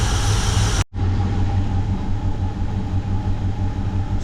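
A 1960 Buick LeSabre engine idles steadily after a fuel pump replacement, a continuous loud low rumble that drops out briefly near the start and then runs on evenly.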